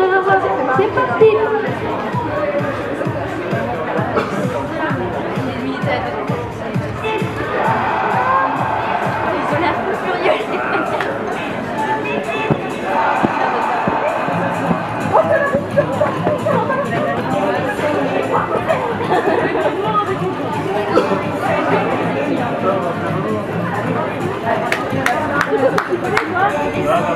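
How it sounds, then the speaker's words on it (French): An outdoor equestrian crowd at a riders' lap of honour on horseback, with sustained rhythmic clapping under a steady babble of chatter and occasional cheers throughout. "nous allons pouvoir applaudir bien fort les cavaliers qui sont à cheval pour leur tour d'honneur"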